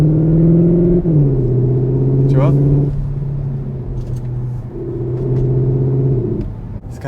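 A Cupra Leon ST hybrid plays an artificial engine sound through its cabin speakers, a loud, steady droning rumble that shifts pitch as it revs, heard under a brief spoken remark.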